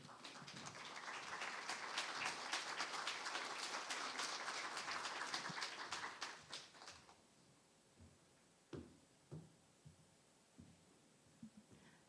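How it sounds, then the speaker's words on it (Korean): An audience at a district office lecture on the future economy claps to welcome a guest professor, a fairly faint burst of many hands that fades out after about seven seconds, leaving a few scattered knocks and thumps. "박수로 이인실 교수님을 모시도록 하겠습니다"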